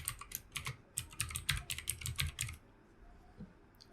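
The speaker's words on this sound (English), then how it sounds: "here I am going to type my email ID" Rapid typing on a computer keyboard while entering an email address, with a close, steady patter of key clicks for about two and a half seconds, then quiet.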